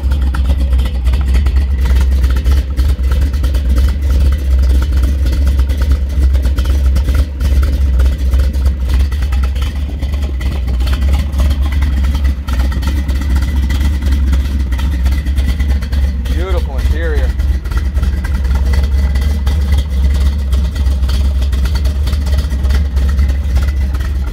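A 1957 Chevrolet Bel Air with a 454 roller motor runs steadily throughout, a loud, deep engine rumble with a strong low end, while people talk over it.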